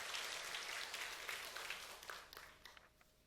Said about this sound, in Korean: 영원토록 변함없이 우리를 사랑하시고 돌보시는 하나님께 감사 영광의 박수를 드립시다